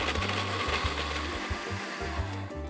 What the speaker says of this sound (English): And then blender on.